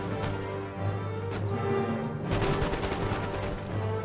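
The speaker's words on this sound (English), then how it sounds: "we got a whole bunch of guys just to keep firing on them" Rolling volleys of musket fire from massed troops on an Empire: Total War battlefield, repeated cracks and pops overlapping into a continuous crackle, loud and close with no talking.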